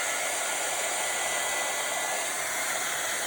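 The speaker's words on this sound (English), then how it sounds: "I will have to use the heat gun" Heat gun blowing hot air to dry paint, a steady close hiss and whoosh of airflow running continuously without a break, alone.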